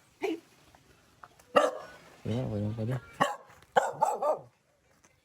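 A dog barks a few times in short yappy bursts, with a whining yip in the middle, while people nearby talk over and between the barks.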